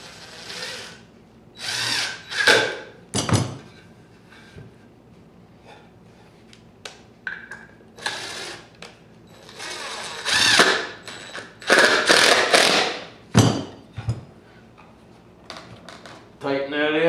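A power drill drives a 2-inch screw into an antelope horn panel in several loud, short whirring bursts separated by pauses, with quieter handling clicks between them and occasional talking.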